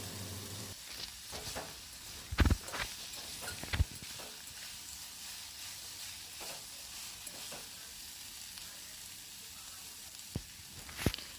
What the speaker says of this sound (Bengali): জল ঝাড়ানো আমলকিগুলো এর মধ্যে দিয়ে দেব খুব ভালোভাবে ভেজে নেব আমলকিগুলো